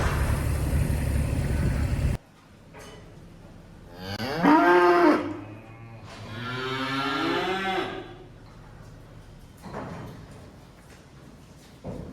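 Cattle moo while being fed with a mini digger on a farm, two long, loud bellows close by and a fainter call later, after a burst of engine noise at the start.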